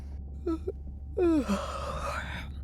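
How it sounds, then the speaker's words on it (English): A character in the underwater game Beyond Blue gives a short breathy yawn, a brief voiced sound followed by a longer drawn-out exhale, faint and alone over a low steady hum. "Was that a yawn?"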